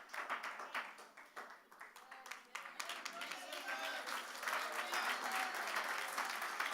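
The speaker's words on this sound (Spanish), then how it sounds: "Dale fuerte ese aplauso a Dios." A church congregation claps, with scattered claps that build into steady, loud applause lasting several seconds in a large room.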